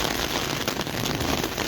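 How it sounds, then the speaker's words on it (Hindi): Heavy rain pours steadily in Jammu, a dense, loud, continuous hiss of drops hammering surfaces up close, with no voices. "आप खुद ही अंदाजा लगा लीजिए कि कितनी तेज बारिश जो है वो हो रही है"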